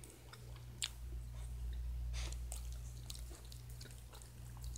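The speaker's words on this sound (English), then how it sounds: "I'm going to try the cookie. It's like a wafer chocolate cookie." Soft crunchy chewing of a Kinder Joy chocolate wafer cookie, close and quiet, with a few sharper bites over a low steady hum.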